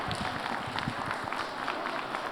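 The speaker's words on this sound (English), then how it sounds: "let's give a round of applause for all the staff members that made this possible" Scattered clapping from an audience honoring staff members at the National Civics Bee at the Nixon Library. The claps are moderately loud and uneven, forming a brief, loose round of applause.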